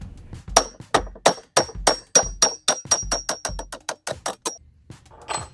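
A hammer strikes a punch to drive the latch pin out of a wheeled Pelican cooler, about a dozen sharp metallic taps in an uneven rhythm, close and loud, followed by a brief shuffle.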